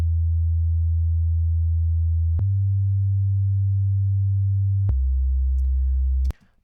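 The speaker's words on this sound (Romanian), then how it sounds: "un sub bass făcut în Vital, doar un sine wave, minus 12 semitonuri" Pure sine wave sub bass synth built in Vital and pitched down 12 semitones, a deep steady hum holding three sustained notes with abrupt pitch changes between them, then cutting off near the end.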